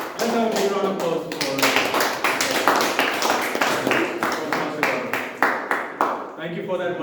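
Audience at a Toastmasters club meeting claps together after a report, a dense run of overlapping hand claps lasting several seconds and tapering off near the end.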